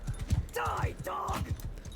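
Horse hooves clip-clop at a steady rhythm while a horse whinnies twice in Mount & Blade II: Bannerlord, with game ambience underneath.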